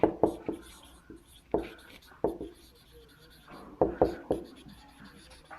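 Chalk or marker strokes on a classroom board during a lesson on the periodic table, coming as rhythmic sharp taps and scratches in short clusters, close and fairly loud.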